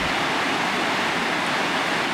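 Steady, dense roar of water rushing over a reservoir spillway at a pondage, continuous broadband rush with no breaks, loud and close throughout.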